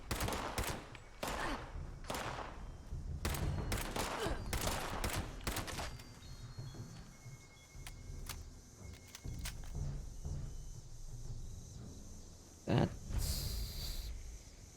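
Gunfire in the video game Fallout 76 rattles off in rapid volleys during the first six seconds, then turns into scattered shots under a steady game background, with a voice speaking briefly.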